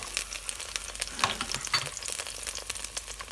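Ginger, shallots and garlic sauté in a hot pan, giving a soft, steady sizzle with a scattering of small crackles and stirring scrapes, moderately loud and close, with no talking.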